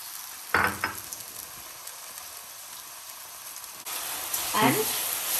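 Ground masala frying in hot oil for a Kerala-style fish curry, a soft steady sizzle with a couple of louder scraping stirs, heard close and fairly quiet.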